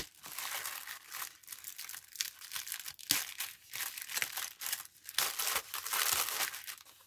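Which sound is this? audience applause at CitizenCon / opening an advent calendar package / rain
opening an advent calendar package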